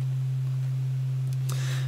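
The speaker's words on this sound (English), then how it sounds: "we're hearing sine waves now" Synthesizer sine waves, slightly detuned, sound as one pure steady low tone that holds unchanged throughout, with a couple of faint brief clicks near the end.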